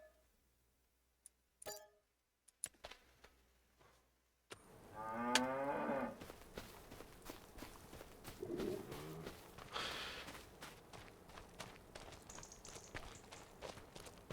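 Angus beef cattle moo in the farming video game Farming Simulator. A few quiet clicks come first, then a clear low moo followed by more mooing and soft footsteps, all faint and close by.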